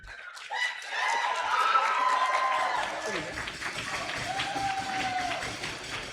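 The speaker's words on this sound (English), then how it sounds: "If you think Sasha is best dressed tonight, please give your applause." Audience applause for a best-dressed contestant at an esports banquet, a broad steady wash of clapping and crowd noise that swells and holds for several seconds, with tonal background sound mixed in.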